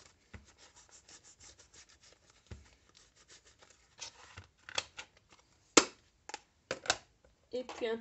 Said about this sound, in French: s'il y a de l'excédent autour de papier, je le coupe.